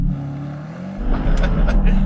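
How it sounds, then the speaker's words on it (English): Bentley Continental GT convertible pulling away at full throttle from a brake-held launch, a deep engine drone swelling into a louder, rising roar as the car leaves, with a voice audible over it. "Left foot on the brake, floor the throttle, hold the revs, and now I'm going to release the brake."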